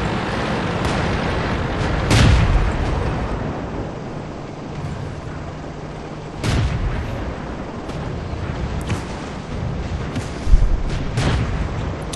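Tank cannon fire in the World of Tanks game during a Churchill 7 heavy tank battle, a few loud booms spaced several seconds apart over a constant engine rumble.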